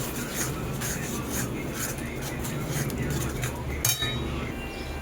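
Mustard paste being stirred into an onion-tomato gravy in a pan for prawns, with clinks and scrapes of a utensil against metal over steady kitchen background noise.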